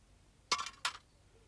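Two sharp glassy clinks about a third of a second apart as louvered glass panes are pulled from a kitchen window, close and crisp against a quiet background.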